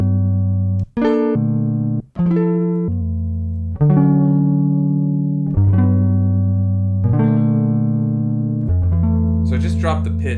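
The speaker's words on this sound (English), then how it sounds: "I just dropped the pitch on all of those individual sounds" Low, deep guitar tones sound one after another on an SP-404 MKII sampler, each note pitched down, sustaining and ringing with a dark, slowed quality, with the last notes turning brighter and shimmering.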